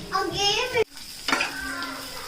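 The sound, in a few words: bitter gourd pieces frying and stirred in pan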